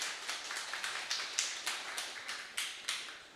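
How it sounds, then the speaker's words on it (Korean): Congregation applauding in a church during a Sunday sermon, a quiet, distant patter of claps with regular bursts roughly every third of a second, soft and somewhat reverberant. "우리 박수 한번 해주실래요?"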